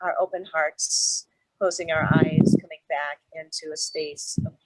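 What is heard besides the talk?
No everyday noise stands out behind the speech.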